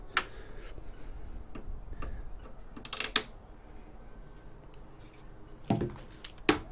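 Plastic and Torx screws being backed out of a Tektronix oscilloscope casing during scrapping, heard as faint ticking and clicking with a few louder sharp knocks, close by and without talk.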